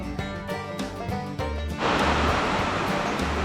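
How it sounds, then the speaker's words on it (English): Heavy rain pours outside a workshop as a dense, steady broadband wash that swells louder partway through, following a stretch of tonal hum and knocking. "Sorry for the noise. It's raining pretty good."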